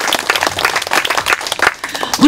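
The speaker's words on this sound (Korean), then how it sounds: "박수 한번 주세요." Audience applause for a four-piece jazz band of music teachers at a community festival, a fairly loud burst of clapping with scattered voices mixed in, lasting a couple of seconds.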